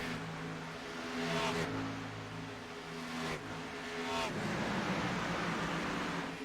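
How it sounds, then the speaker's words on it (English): Race cars in a sim racing game at Auto Club Speedway roar past trackside cameras beside the wall, engine tones swelling and fading in repeated close passes over a steady background drone. "Just listen to that sound of the cars going past the cameras right next to the wall"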